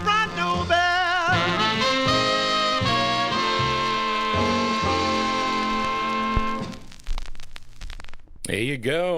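A jump-blues tune plays from a Decca 45 record, with vocal and band heard loud and full, fading into a brief pause and a speaking voice at the end.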